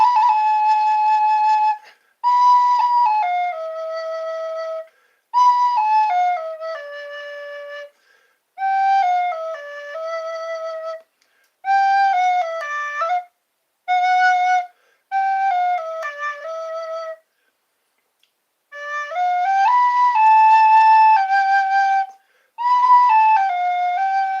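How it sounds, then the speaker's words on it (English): A flute plays a pure, breathy melody in short phrases separated by brief silences, with clear stepped notes, fairly loud and close. "Oh, the sound of a flute."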